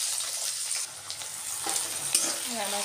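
Boiled chow mein noodles fry and are stirred in a pan, a steady close sizzle broken by scraping and tossing sounds.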